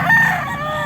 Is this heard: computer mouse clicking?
no